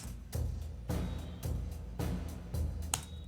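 Music drenched in heavy, boomy reverb, like playing in a small tiled bathroom, with repeated hits smearing into a washy echo tail.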